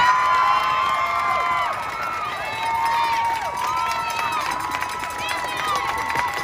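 A large crowd at a Black Lives Matter rally cheers and shouts continuously, with high whoops and whistles rising over a dense wash of many voices, sustained and fairly loud throughout.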